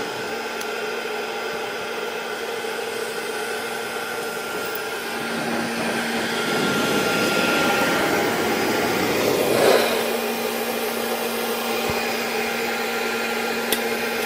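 A DFX4 charcoal gasifier runs with its vacuum motor drawing air, producing a steady loud whine and rushing hiss that swells slightly midway, with a few faint clicks and no speech.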